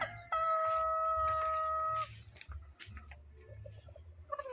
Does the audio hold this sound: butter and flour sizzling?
no